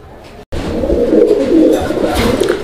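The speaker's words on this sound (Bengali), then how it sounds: "এটা হচ্ছে গ্রিজেল কবুতর একটা জোড়া" A pair of grizzle pigeons coo steadily and close by, a low rolling murmur that stops for a moment near the start, then resumes and carries on without a break.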